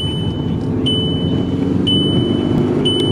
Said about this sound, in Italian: Questo è il suono della mia auto quando non metto la cintura.